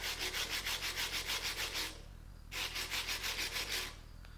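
Abrasive cleanup of a rough weld on a rebuilt 1940s Chevy passenger-car shock absorber, with two bursts of steady, pulsing rasping and grinding separated by a brief pause, close and loud with no talking.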